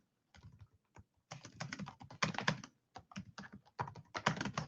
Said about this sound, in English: So let me just type this in here.